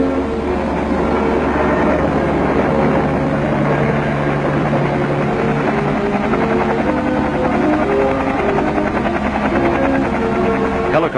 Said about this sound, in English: Helicopters were ready at Bao Vinh to rush the fresh troops to critical combat areas.